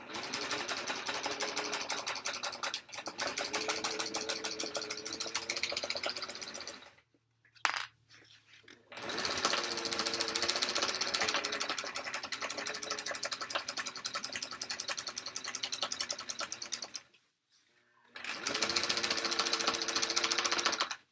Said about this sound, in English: I'm going to back stitch it.